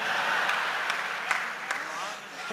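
Audience applause at a Hindi kavi sammelan, a steady wash of clapping from a large crowd with a few sharper claps standing out, continuous and fairly close.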